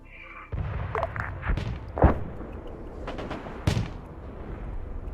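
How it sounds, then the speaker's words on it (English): Tank cannons trade fire in a war strategy game battle, T-55 tanks in fog, with several sharp booming shots spread across the moment over a low rumbling background. "Tanks firing back and forth right here"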